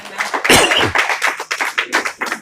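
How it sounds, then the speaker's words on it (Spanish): A church congregation claps in praise during a sermon, loud irregular bursts of close hand claps in uneven clusters, with no talking over them. "Den un aplauso al Señor."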